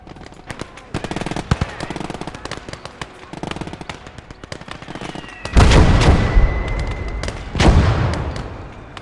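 Artillery fire in the WWII strategy game Gates of Hell, a series of sharp gunfire cracks followed by two heavy, booming blasts that roll out and fade, with voices talking over the battle.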